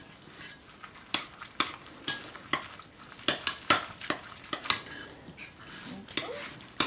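A spoon works through a thick cream cheese filling for stroganoff buttons, giving close, repeated scraping clinks against the bowl in an uneven stirring rhythm, with no talking.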